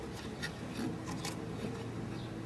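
A quick-disconnect release tool slides over a radiator fuel or transmission line with a soft, steady rubbing scrape. The sound is faint and close, runs for a couple of seconds, and has no talking over it.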